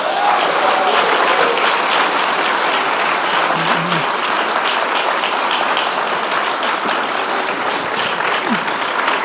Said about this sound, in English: Let's give a round of applause to Maggie Haberman, Alex Burns, and Jonathan